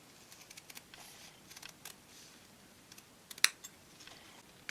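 Scissors trim fabric edges at an angle for ribbon candy ornaments: a few faint, crisp snips spaced irregularly, one louder close cut near the end, in a quiet room.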